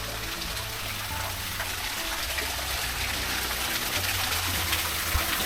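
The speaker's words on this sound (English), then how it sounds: "This is the tallest waterfall in the garden." The tallest waterfall in the Sunken Gardens gives a constant gushing roar of falling water, near and steady throughout with no speech.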